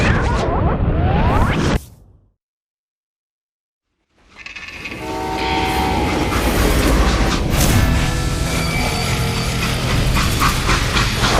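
A rumbling train from the video game Call of Juarez Gunslinger opens loud with a horn-like tone, cuts out to total silence for about two seconds, then returns as a heavy, continuous clatter and roar.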